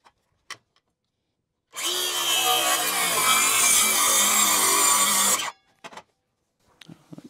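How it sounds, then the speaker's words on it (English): A circular saw rips through a stout wooden door being built as a Dutch door, one loud, steady cut of about four seconds, with brief knocks and handling noises before and after. "I'm going to do it with a skill saw, circular saw."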